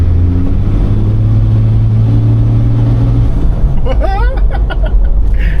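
A restored Toyota Land Cruiser's engine hums steadily with a low drone as it pulls along, loud and close, while people talk over it.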